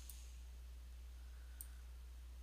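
Two soft, faint computer mouse clicks, about a second and a half apart, while a link is selected in a school gradebook program, over a steady low electrical hum.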